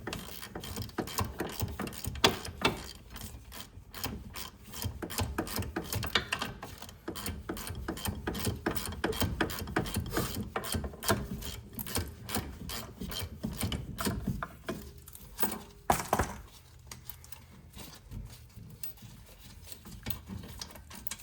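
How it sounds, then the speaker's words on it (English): A hand ratchet clicks in repeated rapid bursts while loosening bolts during rear knuckle and brake caliper work on a 2011 Ford Explorer, close and fairly quiet, with scraping between strokes and no talk. "Gotta keep going with the ratchet."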